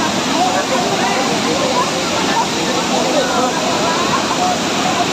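Taytay Falls in Majayjay, Laguna roars as a steady, loud, broadband rush of falling water that never lets up.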